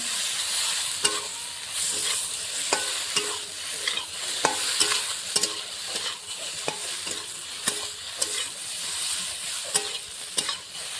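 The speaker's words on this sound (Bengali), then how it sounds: "মশলাটা আলু সঙ্গে কষিয়ে নেব।" Potatoes fry with coriander powder and Kashmiri chilli powder, giving a steady close sizzle under regular clinks and scrapes of a spatula stirring the pan, with no voices.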